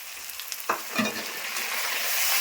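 A spice paste of cumin, ginger, chili, garlic and onion drops into hot oil, bursting into a loud close sizzle after a couple of clatters of the spoon, then hissing steadily and growing.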